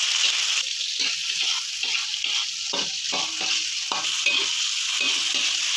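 Mie goreng with tempe, chili and tomato being stir-fried in a pan, steady frying sizzle with repeated scraping and stirring strokes, close and fairly loud, no talking.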